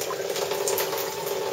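Water gurgles and rushes steadily through a bell siphon in a small aquaponics setup as it drains, a continuous close splashing flow with voices talking over it.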